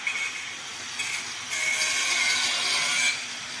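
An angle grinder runs in a workshop, sounding as a loud, high whining grind that cuts in and out and swells steadily louder midway through before easing off, with no talking.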